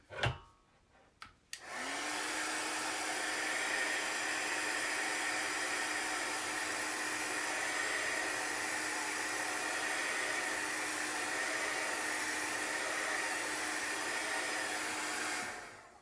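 A hair dryer blows steadily for about fourteen seconds to dry a chalk-paste craft piece for a faux stained glass window, its loud, even whoosh starting after a couple of clicks and handling noises.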